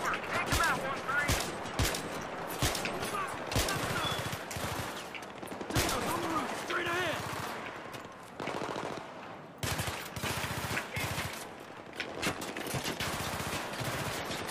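Battlefield 3 gunfire in a firefight: dense volleys of loud shots and automatic bursts with sniper rifle cracks, repeated sharp reports throughout, with voices and game chatter in between.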